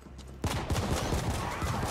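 Gunfire in the video game The Ascent: after a brief quiet start, a dense rapid burst of shots begins abruptly and runs steadily, loud and close, with no talking.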